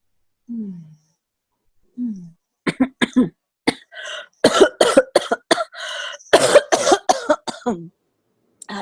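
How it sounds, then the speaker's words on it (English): A woman coughing up close, a few soft throat sounds and then a long cluster of harsh, repeated coughs in quick bursts, loud in an otherwise quiet room. "I'm coughing a little bit."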